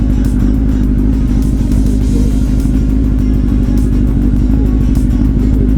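A motorcycle engine drones loud and steady during a ride, a deep continuous rumble with a constant throb and no letup.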